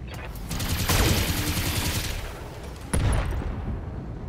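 Mech weapons fire in the video game BattleTech: a sustained, loud rattling barrage builds, then one sharp blast hits near the end and a short burst follows it. No one speaks.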